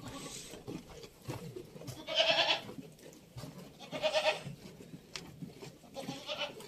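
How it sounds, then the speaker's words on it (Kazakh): Goats and young kids bleat several times, a few calls standing out clearly over a quiet outdoor background. "Ал мына жерде жеке тұрған ешкілер, оларда жеке лақтары бар."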